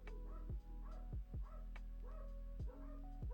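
Several dogs bark in short repeated bursts at a moderate distance, spaced irregularly over a constant low background hum, with no talking.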